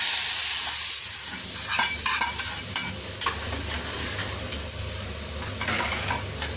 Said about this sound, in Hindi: ये हमारा तड़का लग चुका है।